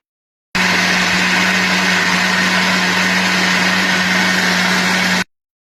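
A kitchen mixer grinder whirs steadily while grinding soaked lentils for dosa batter, loud and unbroken for about five seconds, then cutting off abruptly.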